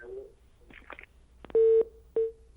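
Telephone line after the caller hangs up, faint handset noise then loud electronic tones, one long steady beep followed by a shorter one.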